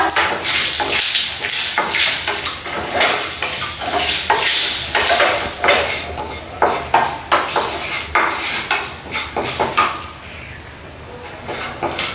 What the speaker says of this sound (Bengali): পাঁচফোড়নগুলো ভাজা হয়ে গেছে